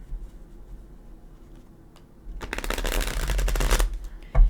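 Tarot deck being shuffled close by, a burst of quick riffling card flutter after a quiet start, ending with a soft knock as the cards settle.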